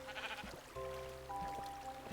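Sheep in Minecraft bleat in two or three short wavering calls, close and fairly quiet over a soft steady background.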